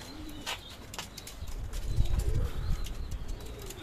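Pigeons around a rooftop loft under a winter sky coo softly and flap their wings in a few bursts, mixed with outdoor background rumble, close by and with no talk.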